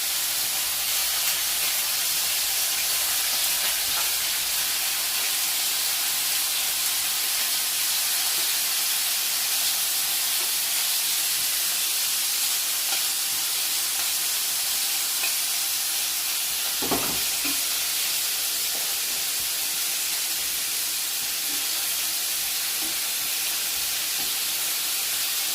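Soya chicken with jerk spice fries in a pan, giving a steady, moderately quiet sizzle and hiss with one brief clatter partway through. No voices.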